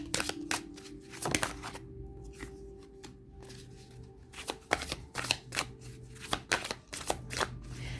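A deck of oracle cards being shuffled, with repeated crisp riffling bursts in quick irregular rhythm, close and moderately loud, over a faint steady background hum.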